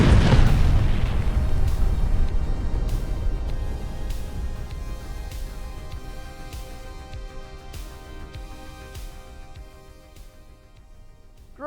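A practical pyrotechnic charge goes off in zero gravity with a loud, close boom at the start, then a long rumbling decay fading over about ten seconds, with no voices.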